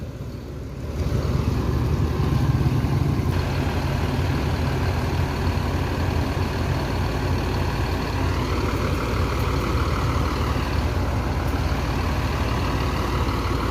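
A Sembodo bus passing on the road, heard as a loud, steady engine rumble with broadband road noise that holds for the whole stretch, close to the listener, with no talking.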